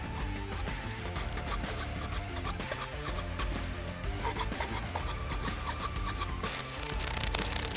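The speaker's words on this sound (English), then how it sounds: "I'm just going to try and take off the burr around this piece of timber, see how good the crosscut file in this is" A crosscut wood file on a Terratac multi-tool rasps back and forth to take burrs off a piece of timber, giving a steady, close, continuous scraping that runs the whole time with no talking.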